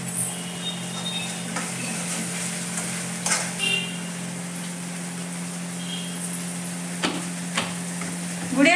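Masala fries and is stirred in a pan at home, giving a steady soft sizzle with occasional scraping stirs and faint clinks, close by and without talking.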